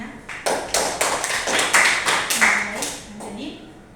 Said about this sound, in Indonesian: Kita kasih aplaus untuk semuanya